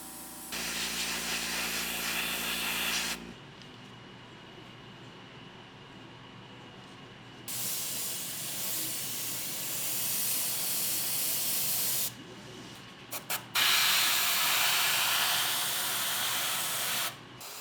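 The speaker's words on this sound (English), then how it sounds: "with this airbrush, I'll be able to paint a large mass in a very short time" An airbrush spraying paint onto a 3D printed Charizard figure: several close, loud bursts of steady hiss of varying length, with quieter gaps and a few short spurts between them.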